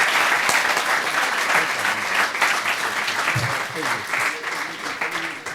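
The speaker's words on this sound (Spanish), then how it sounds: "ahorita les pido a ustedes si le damos un aplauso para bienvenida" Applause from an audience at a lecture event, steady and fairly close, lasting throughout without a break.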